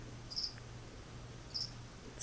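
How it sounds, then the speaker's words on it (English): Cricket being fed to a tarantula, giving a few faint, high, brief chirps spaced over a couple of seconds against quiet indoor background noise. "It's a big cricket."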